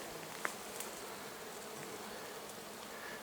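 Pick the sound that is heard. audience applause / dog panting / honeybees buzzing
honeybees buzzing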